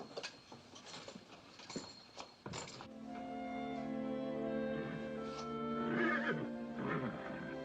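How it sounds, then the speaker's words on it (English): Horses whinny loudly and repeatedly, long shrill neighs with snorts between them, fairly close. "Something's scaring the horses."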